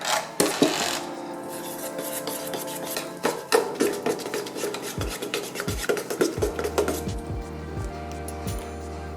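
Italian 00 flour pizza dough is stirred and scraped in a bowl, giving gritty rasping strokes and occasional clinks of utensil on the bowl, close and uneven, with a low hum and a few sharp knocks near the end.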